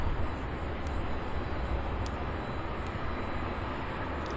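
A DC-9 jet airliner approaching to land at Louisville gives a broad, steady engine roar, distant but constant, with faint high clicks.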